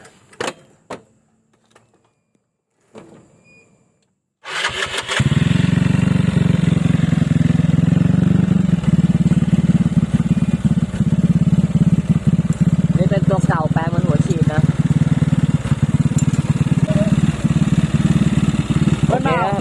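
A Yamaha Mio motor scooter engine starts after a few faint knocks and then runs steadily, a loud close buzzing idle with slight revving.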